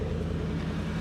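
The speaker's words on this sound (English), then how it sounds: "Here, listen to the exhaust. That's not a normal Lexus exhaust." Aftermarket exhaust on a Lexus GX 470 with 181,000 miles idles with a steady, loud low rumble. The drone is continuous and close, with no talk over it.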